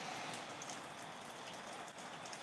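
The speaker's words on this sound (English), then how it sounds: "It's raining. I don't know if you can hear the pitter-patters on this side of my world as well." Rain falls outside, a soft, continuous patter and hiss of drops with faint scattered ticks, moderately quiet and steady across the whole moment, with no one speaking.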